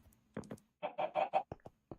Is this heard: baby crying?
no